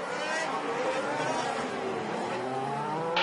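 Formula 1 cars at the 2015 Monaco Grand Prix give a continuous high-pitched engine whine that swells and fades as they pass on the street circuit, with crowd noise underneath and a brief brighter burst at the close.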